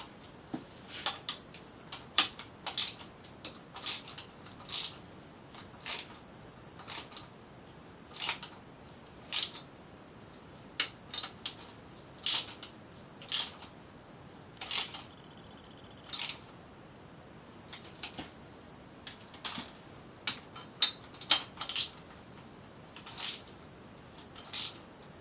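Sharp ratcheting clicks from a wrench turning a harmonic balancer puller on a big block engine, coming in short irregular bursts of a few clicks each, fairly close and clear against a quiet background with no talk.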